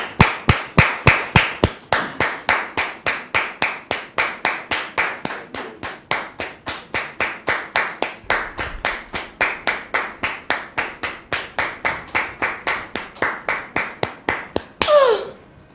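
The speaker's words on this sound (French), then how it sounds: "Merci de recevoir David ici maintenant sous vos applaudissements." A studio audience claps to welcome a guest onto a talk show, the hits sharp and evenly spaced, almost in unison, fading gradually toward the end before a brief rising vocal sound.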